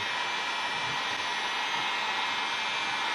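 A heat gun blows a steady, loud, airy roar while heating vinyl wrap on a car's front fender, continuous and close with no talking.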